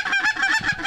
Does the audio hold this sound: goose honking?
yes